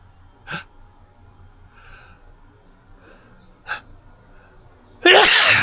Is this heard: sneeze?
yes